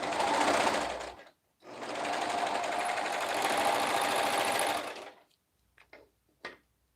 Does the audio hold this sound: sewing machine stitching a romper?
yes